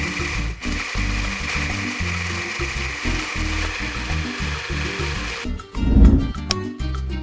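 An immersion hand blender whirs through a smoothie, a loud close motor hum with a pulsing, churning rhythm, then a brief clattering bump as it is lifted or shifted near the end.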